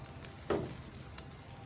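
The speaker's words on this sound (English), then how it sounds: "Put a little bit of water in there so that they could steam and soften up." Water hitting a hot grill with butternut squash gives a single short sizzling hiss that quickly fades, heard alone and fairly close.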